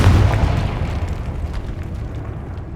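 A Confringo blasting curse goes off in Hogwarts Legacy inside a decayed catacomb: one heavy, close boom with a deep rumbling tail that slowly fades over a few seconds, no voices over it.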